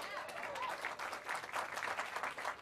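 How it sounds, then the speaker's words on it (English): An audience applauds at Simon Baker's star ceremony on the Hollywood Walk of Fame, a steady dense wash of many hands clapping that holds for the whole stretch outdoors. "And that deserves some applause."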